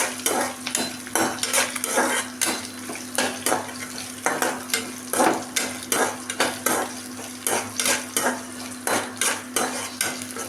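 Coriander seeds, cumin and black pepper dry roasting in a pan, with a spatula scraping and stirring in regular, rhythmic strokes over a low background hum, close by.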